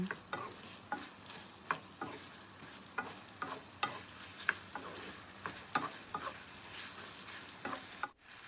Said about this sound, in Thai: ใส่ถั่วฝักยาวที่ลวกเอาไว้ ผัดเบาๆ ให้เข้ากัน